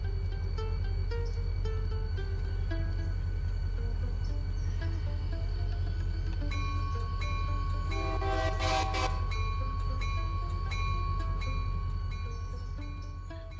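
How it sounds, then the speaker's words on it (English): A train rolls past in the Trackside: Railroader video game, bound for the mines: a steady, heavy rumble runs throughout, with a loud horn blast sounding midway, no talking. "let's go get another shot as the train rolls by here"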